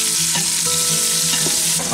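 Peanut oil sizzles steadily in a pan for Southern buttermilk fried chicken while something is stirred, with scraping and bubbling under a constant frying hiss and no talk.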